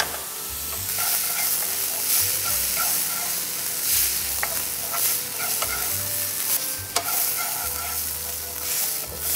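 Chopped onion and tomato fry in a pan for a chicken curry, giving a steady close sizzle with frequent scraping and stirring strokes throughout and no talking.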